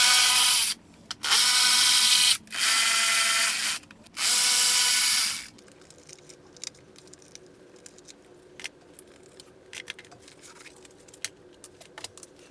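A power tool loosens fasteners while the battery is removed from a Yamaha VMAX 1700 motorcycle: three loud, close bursts of high whirring, each lasting about one to one and a half seconds, followed by quieter clinks and handling rattles of metal parts.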